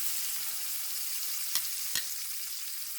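Steak fries in a pan beneath a splatter guard, a steady, moderately loud crackling hiss with a couple of sharp pops or taps partway through; nobody speaks.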